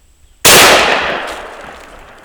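A single loud gunshot rings out during a squirrel hunt, a sudden close blast that decays over about two seconds.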